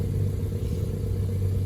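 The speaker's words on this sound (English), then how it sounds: "So that's the exhaust after installed." A 2019 Acura TLX idles with its remote exhaust cutout valve closed, giving a steady, low, muffled rumble close to stock that stays even and constant throughout.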